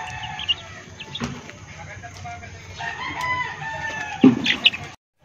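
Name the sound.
pet chickens and chicks clucking and crowing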